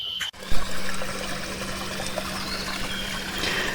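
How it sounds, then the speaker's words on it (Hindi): A small forest waterfall rushes steadily as a broadband wash of falling water. A brief thump comes at the start, with no talk. "यहाँ पर ये छोटा सा में एक झरना मिला।"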